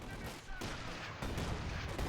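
Gunfire in a 1v1 competitive strategy game match: dense, continuous booming and crackling weapon fire with artillery-like blasts, loud and unbroken throughout.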